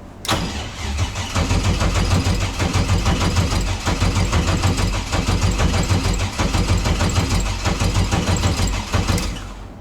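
A Mazda RX7 FC with a new engine setup turns over on its starter in a loud, continuous cranking whir that pulses rhythmically for nearly ten seconds before cutting off, close up with no talking.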